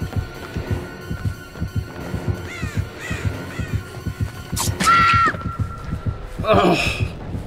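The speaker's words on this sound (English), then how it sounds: "Oh, stupid bird." Crows caw several times in the horror game Dead by Daylight, sharp repeated calls over a steady, throbbing heartbeat-like pulse and low hum.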